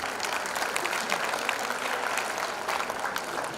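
A school audience at an annual prize day claps steadily for an assistant house captain, a dense, even round of applause filling the hall without pause.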